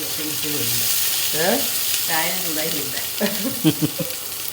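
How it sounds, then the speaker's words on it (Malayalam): Onions sauté in a pan with a steady, moderate sizzle, while voices talk over the frying. "ലേശം ഉള്ളി വാട്ടിയെടുക്കാട്ടാ"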